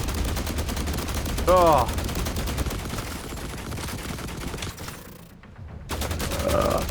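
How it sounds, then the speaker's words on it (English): Enemy gunfire in The Last Caretaker crackles in rapid bursts of automatic fire throughout, close and loud, stopping briefly near the end before picking up again. A man makes a short exclamation over it. "make sure to take cover while they're firing"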